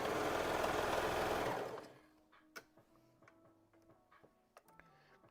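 A sewing machine runs a seam on a McCall's M8383 Valentine's Day dress in a loud, close whir for under two seconds, followed by faint ticks and small handling clicks.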